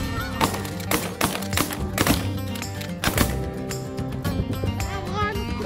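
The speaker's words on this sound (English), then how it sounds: "Flocks of geese kept coming, and they wanted this field badly." Many geese honk loudly and continuously over a field during a hunt, a dense overlapping chorus close by, with a voice speaking briefly among the calls.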